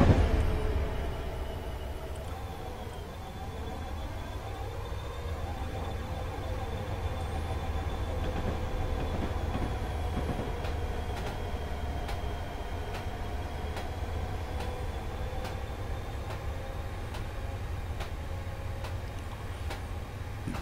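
An SD70ACe diesel locomotive runs on the Soldier Summit line in Train Simulator, with a steady low rumble and faint rhythmic rail clicks continuing evenly throughout, no voices.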